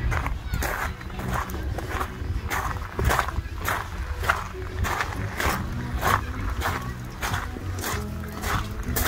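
Steady clip-clop of hooves on a hard seaside promenade, several horses walking at an even pace close by, with a busy outdoor crowd murmuring underneath.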